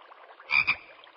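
A frog gives a double croak, two quick loud rasping pulses close together over a faint background, in a cartoon pirate setting with no talking.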